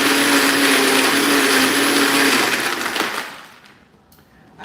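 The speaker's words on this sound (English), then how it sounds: "I like this new blender that we have" A countertop blender crushes ice for a frozen margarita with a loud, grinding whir that runs steadily for about three seconds, then winds down into quiet with a few small clatters and no speech.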